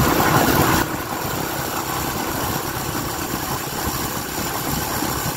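Motorcycle engine running at speed, a steady broadband drone mixed with wind rush that stays constant after a brief louder burst at the start, no voices.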